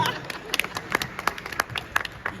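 Audience clapping at an Odia stage comedy show: a sparse scattering of individual hand claps over a low room murmur, fairly close and moderately loud, with no voices.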